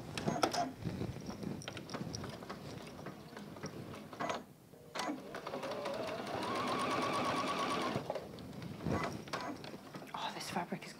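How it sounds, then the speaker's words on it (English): A sewing machine stitches through William Morris tapestry fabric in steady runs of mechanical whirring, broken by brief pauses, with someone talking over and between the bursts. "we are just sewing through the tapestry fabric"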